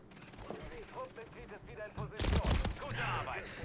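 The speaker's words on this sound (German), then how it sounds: "Natürlich wieder Schüsse auf mich." Bursts of Warzone gunfire crack out in the second half, loud and clustered, over busy in-game noise and scattered voices.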